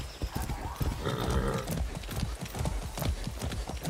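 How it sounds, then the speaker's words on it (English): Horse hooves galloping in the video game Far Cry 6, a quick rhythmic stream of close, heavy thuds running steadily throughout. "Let's go, horse."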